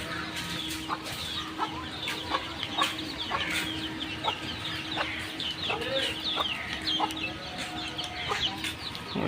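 Village chickens cluck and a rooster calls on a drizzly morning, with repeated short clucks and squawks over soft rain and steady background hum, moderately near, with no talk.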